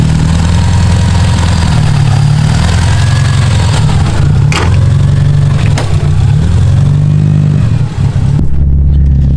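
A roughly 500 whp modified Subaru STI sits idling close by while warming up, a loud, steady low rumble with slight wavering in pitch and no talk.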